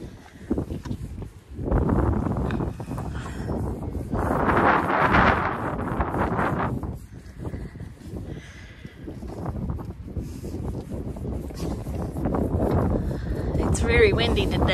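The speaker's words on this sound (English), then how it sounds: "Very windy today." Strong wind buffeting the microphone outdoors on a farm, loud gusty rumbling roar that rises and falls in waves through most of the stretch, with occasional faint rustling.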